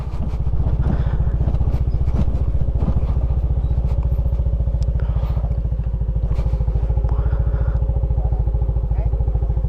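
A motorcycle engine runs loud and close throughout, its steady rapid thumping pulse unbroken for the whole stretch.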